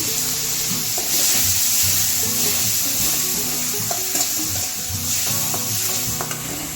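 Chopped tomatoes sauté with softened onions and curry leaves in a pan for mochai kottai kulambu, a steady close sizzle broken by repeated scraping stirs, with no talking.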